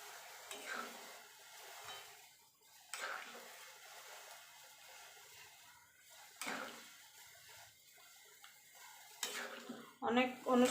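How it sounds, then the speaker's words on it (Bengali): Fried cashews, raisins and paneer tipped into a pot of boiling vegetable dal, with spoon scrapes and clanks against the metal pot in several short bursts and some quiet sizzling in between. "এখানে যে কাজু কিশমিশটা ভেজে রেখেছিলাম সেটা দিয়ে দেবো, আর পনিরটা যে ভেজে রেখেছিলাম সেটা দিয়ে দেবো।"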